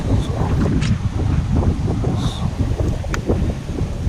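Strong outdoor wind buffets a camera microphone in steady low rumbling gusts, loud and continuous throughout, with faint brief sounds in the background.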